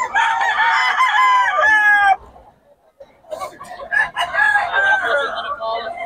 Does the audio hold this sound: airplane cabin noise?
no